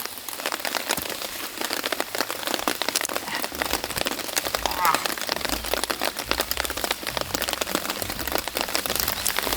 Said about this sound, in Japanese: やばい、雨が 雨がやばいね。